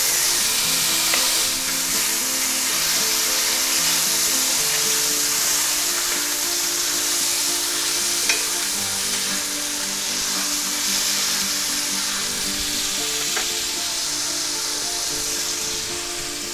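Minced garlic sizzling in a hot pan for a chicken and celery stir fry, a continuous dense crackling hiss heard up close and steady, with no speech over it.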